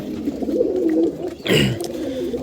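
Close, low cooing of a pair of white Giribaz pigeons, a soft throaty rolling call followed by a brief rustle or flutter.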